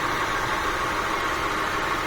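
A 2001 Honda Accord engine with an overheating problem idles steadily, a continuous broadband rumble and hum close to the microphone with no change in pitch and no voices.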